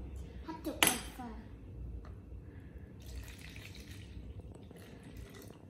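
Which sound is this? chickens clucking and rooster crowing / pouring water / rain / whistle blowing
pouring water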